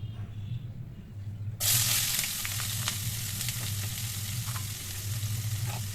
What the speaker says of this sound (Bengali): দিয়ে কিছুক্ষণ ভালো করে নেড়ে চেড়ে ভেজে নেব